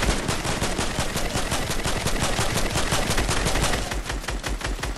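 Rapid bursts of gunfire crackle through a video game shootout, dense near machine-gun-like shots repeating loudly and almost continuously for several seconds, with no talking over them.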